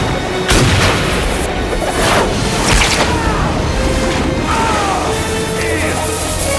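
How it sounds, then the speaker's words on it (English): Heavy booming explosions and crashes from a film scene in which an explosive arrow blows up a shark, loud and dense, with scattered shouting voices mixed into the chaotic blasts. "shoots the explosive arrow directly into the dorsal fin of the devilfish"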